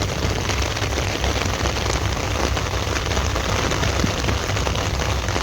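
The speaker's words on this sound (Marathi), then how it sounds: "पाऊस पडत आहे।" Heavy monsoon rain pours down over a flooding village by a river, a dense, loud, unbroken hiss of drops striking surfaces with no talking.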